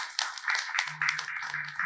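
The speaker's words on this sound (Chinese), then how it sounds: "我们再次给掌声孙教授" A lecture audience claps in brief applause at the close of a public talk on the ancient Shu state, steady dense clapping heard close, with a low hum beneath.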